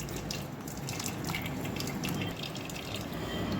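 Ground wheat milk strained through a fine sieve for halwa, a steady close trickling and pouring of liquid that runs without a break, with no voices.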